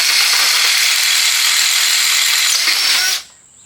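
A power drill whirs at high speed while driving bolts into the base of a Walker Turner jigsaw under restoration, a loud continuous spin for about three seconds that cuts off abruptly into quiet.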